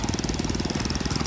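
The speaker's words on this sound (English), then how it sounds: "And the stationary engines." Stationary engines running at a tractor show, giving a steady, rapid chugging beat with a constant mechanical rumble, close and loud with no voices.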